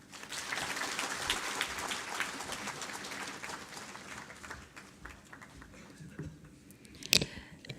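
Audience applause after a speech at a State Disaster Risk Reduction Day event, steady clapping from a crowd that thins out toward the end, with one sharp louder clap near the close.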